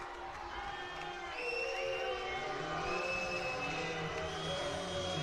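A basketball crowd at a FIBA EuroBasket 2021 pre-qualifier between Switzerland and Slovakia rises into a loud sustained roar of whistles and shouts in disagreement after a foul call, filling the arena.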